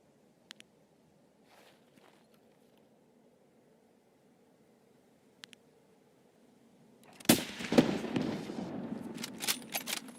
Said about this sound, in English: Why did my grenade go off now?